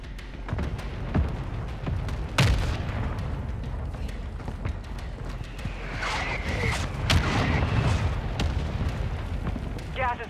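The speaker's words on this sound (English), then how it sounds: "Mortar strike on the way." Mortar strike explosions in Call of Duty: Warzone 2.0 boom out as several heavy blasts and rumbling impacts over a continuous low battlefield roar, with game radio voices speaking underneath.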